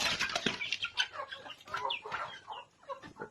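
Native chickens in a backyard flock clucking and chattering, several birds calling in quick irregular bursts close by, with a brief flap of wings, fairly quiet overall.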